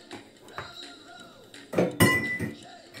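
Pumpkin pie filling stirred in a bowl, with clinking knocks of a utensil against the dish in a short burst, while a person talks faintly in between.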